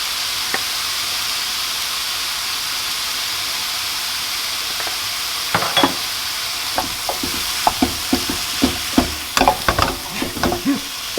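Stir-fry sizzles steadily in a pan seasoned with soy sauce and white pepper, while a utensil scrapes and clacks against the pan in quickening, irregular strokes toward the end.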